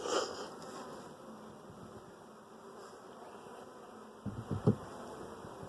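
Honey bees from a strong, swarm-ready hive buzz in a soft, continuous hum, with a few louder individual buzzes passing close near the end.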